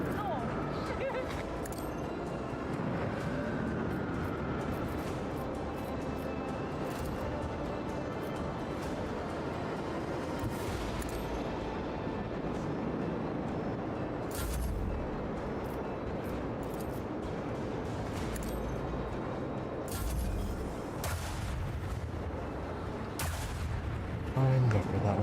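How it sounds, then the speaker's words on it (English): Torpedo launches and ship weapons fire in the Warhammer 40k Rogue Trader video game, a steady roar of battle with several sharp blasts breaking through, mixed with game voices speaking throughout. "Launch the devastating payload."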